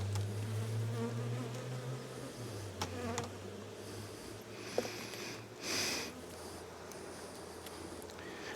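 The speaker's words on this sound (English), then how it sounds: "You might be able to hear them buzzing away, making a lot of noise" Honeybees buzzing and fanning inside a backyard hive during a frame inspection, a continuous low droning hum close up, steady throughout with a few brief rustles and a breathy puff near the end.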